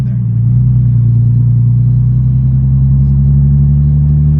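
An Infiniti G37 sedan engine revs hard on a dyno, a loud, steady low rumble that holds and climbs slightly throughout, with no talk over it.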